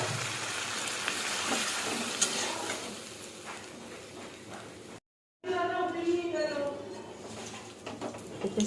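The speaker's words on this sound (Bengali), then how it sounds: "নাড়াচাড়া করে জল দিয়ে দেবো" Spices fry in a pan with a steady sizzle and stirring for about five seconds. After a brief silence, pigeons coo and other birds call nearby while the frying continues faintly underneath.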